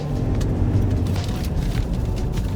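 A 2017 Ford Endeavour SUV with a 3.2-litre five-cylinder engine drives along, its low, rumbling engine note and road noise steady and fairly loud with no voices.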